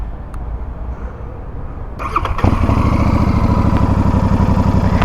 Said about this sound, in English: let me make you hear the exhaust note on this thing